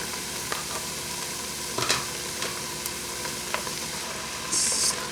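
Lentils go into a pot of cooked, softened vegetables for Creole lentil soup, a dense continuous sizzle with scattered small clinks and scrapes and a brief brighter burst near the end, no voices.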